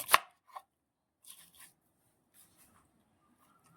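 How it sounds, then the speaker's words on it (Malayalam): Green pineapple being cut on a board for a Kerala thoran, a few sparse, quiet knife chops close by, the first one sharpest, followed by fainter taps and near silence. "നമുക്കിത് ആദ്യം തന്നെ അരിഞ്ഞെടുക്കാം."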